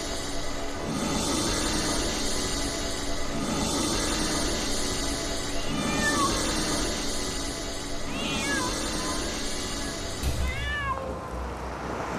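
A cat meows repeatedly, with several plaintive cries spaced across roughly twelve seconds over a steady hiss of background noise and a low rumble near the end, with no speech.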